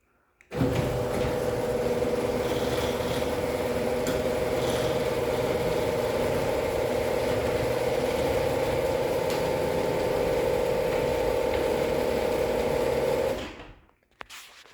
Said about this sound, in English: If you hear the rattling, that's just the rail shaking.